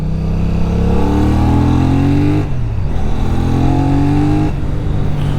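Benelli Tornado 550 sport bike engine revs loud and close, climbing steadily through the gears with two shift breaks where the pitch drops and builds again.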